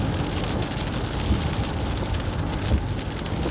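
Steady rain patters on a surface in a continuous hiss, with a couple of soft low thuds and no voices.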